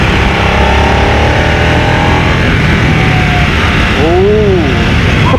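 A Harley-Davidson Nightster motorcycle revs hard above 3,500 RPM on a hill road, its engine a loud, continuous rumble with wind noise and pitch climbing as it accelerates.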